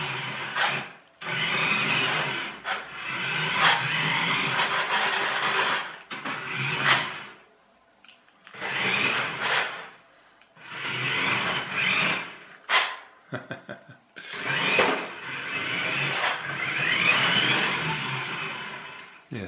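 A desktop waste bin RC car whirs in repeated short bursts of motor noise as it drives and skids, stopping and starting with quiet gaps between runs.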